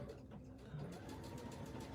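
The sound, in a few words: sewing machine top stitching fabric with orange thread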